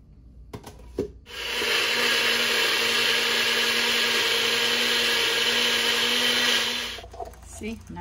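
A blender runs steadily on green seasoning with oil and water, a loud continuous whirring motor that starts after a second and cuts off near the end, with a few knocks before and after.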